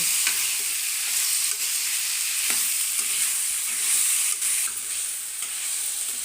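Chicken pepper fry cooks in oil with tomato in the pan, a loud, dense hiss of frying close up, punctuated by occasional spatula scrapes and taps and no voices.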